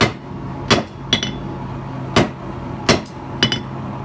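A hammer pounds glowing steel into a tapered punch at the forge, half a dozen sharp ringing blows at uneven intervals, each a bright metallic clang over a low background hum.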